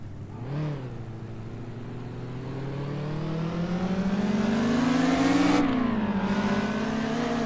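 Simulated car engine in a Roblox test drive revving steadily, its pitch climbing and falling across a continuous smooth drone, loud and alone with no talk.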